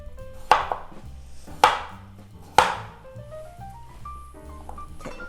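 A knife chops potato pieces on a cutting board in a kitchen for braised mackerel with radish, three firm, evenly spaced thuds heard close and clear over soft background music with no talking.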